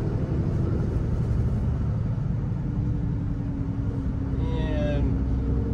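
A Ram 3500 Mega Cab 4x4 with a Cummins diesel engine and six-speed manual gearbox cruises in fourth gear, giving a loud, steady low engine drone and road rumble from inside the cab with no talk.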